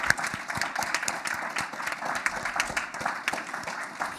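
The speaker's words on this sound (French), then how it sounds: "Je pense qu'on peut s'applaudir pour ça" Sustained applause from an audience at a University of Sherbrooke history colloquium: dense, steady clapping from many hands filling the room, with no voices standing out.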